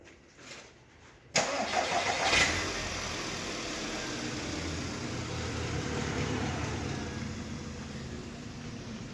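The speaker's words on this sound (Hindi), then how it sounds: "और गाड़ी स्टार्ट कर।" A car engine cranks and catches with a sudden burst, then settles into a steady, rumbling idle that continues close by.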